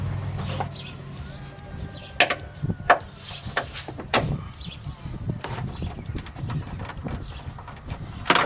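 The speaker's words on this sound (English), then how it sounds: "We need to remove the front lower hinge screw right here" A 12mm socket on a ratchet works a front lower hinge screw loose on a 2017 Fiat 124 Spider or Mazda MX-5, with quiet rhythmic clicks and a few sharper knocks close at hand and no talk.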